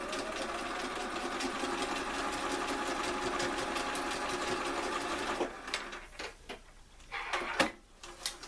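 Sewing machine stitching fabric pieces together for an autumn leaf hanger pattern, a steady rapid mechanical whirring for over five seconds, then stopping and restarting in short bursts with light clicks toward the end.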